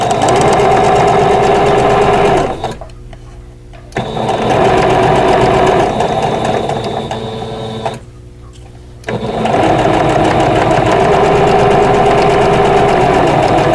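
A sewing machine stitches a vintage Basket of Diamonds quilt block in close, loud, steady whirring runs, broken by two short pauses before the motor starts again.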